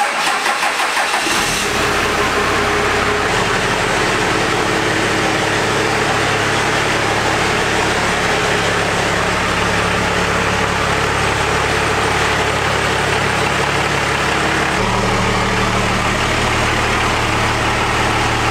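A 12V Cummins diesel truck engine cranks and fires up, then settles into a loud, steady rattling idle that carries on alone for the rest of the clip.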